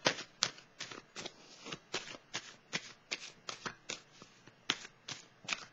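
A deck of tarot cards is shuffled by hand before one is drawn, producing a quick run of papery riffles and flicks in a steady, slightly uneven rhythm, close and soft with no voice.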